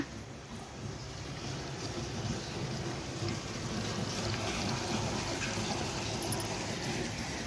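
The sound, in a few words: borewell water flowing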